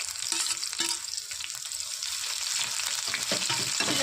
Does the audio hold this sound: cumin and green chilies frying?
yes